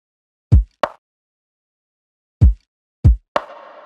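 A sparse lo-fi drum loop plays alone: punchy kick thumps alternate with sharp snare cracks, separated by silence, and the final snare blooms into a long vintage-style reverb tail.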